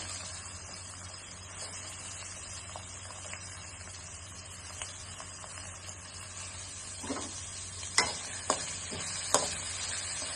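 Chopped onions fry with curry leaves in a pan: a steady, even sizzle with no talk, then a few sharp stirring clinks near the end.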